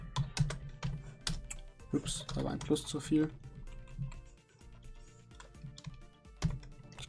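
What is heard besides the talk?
typing on a computer keyboard while programming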